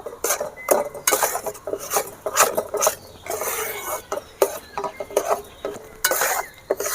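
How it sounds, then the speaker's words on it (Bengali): Gram flour (besan) fried in ghee and stirred over low heat, repeated metallic scraping and clinking of a spoon against the pan in an uneven rhythm, close and loud, with no talk. "এভাবে ভেজে আমি শুকনো করে নেব"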